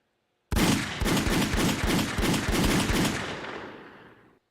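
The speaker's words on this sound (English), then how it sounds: "Gunshots for Butcher." A rapid burst of automatic gunfire, a steady stream of loud shots lasting several seconds before fading out.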